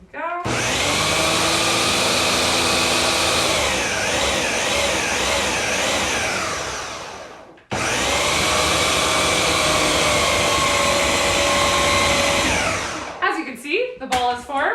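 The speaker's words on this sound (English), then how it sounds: "it's starting to rumble our food processor around" Loud food processor whirs steadily as it mixes curry-spiced Jamaican beef patty dough, the motor pitch wavering as the dough ball forms and thumps around; it stops briefly near the middle, restarts, then cuts off with a few clunks.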